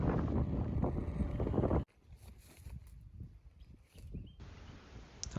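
Wind buffets the microphone outdoors near Geraldton, Australia, with a loud, steady roar that cuts off suddenly, leaving softer gusty rumbling before a strong blast returns near the end.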